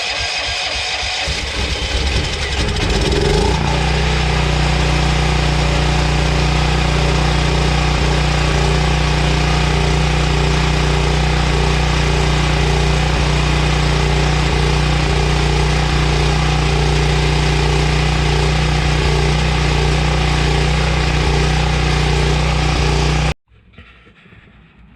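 A 2012 Craftsman by MTD 21-inch single-stage snowblower engine runs close and loud, its rough idle steadying after the first few seconds, then cuts out near the end, with no talking.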